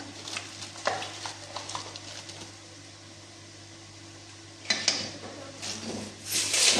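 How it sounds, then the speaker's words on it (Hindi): Spice masala with turmeric, red chili and salt being fried and stirred in a pan for aloo gobhi, a spoon scraping and clinking against the metal in irregular strokes, with a faint sizzle and a louder clatter near the end. "मसाले को अच्छे तरीके से भून लेंगे।"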